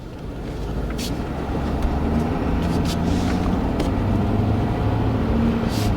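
A loud, rumbling diesel engine of a 2020 Ford F350 Powerstroke pickup revs up under load nearby on icy ground, droning steadily as it pulls, with occasional sharp clicks over the roar.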